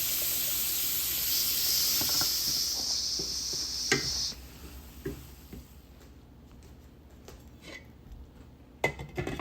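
Radish for radish cake frying in a pan, with a bright sizzling hiss for about four seconds, then quieter sputters and scattered light clinks of a utensil against the pan, close by.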